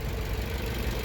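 The 2.4-liter four-cylinder engine of a 2014 Jeep Cherokee Latitude runs with a steady, even rumble, close and continuous, with no other sounds.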